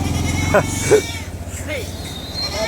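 Sheep bleat at a busy livestock market in Nimmiyampattu, Tirupattur district, with several short calls rising over steady crowd chatter and people talking close by.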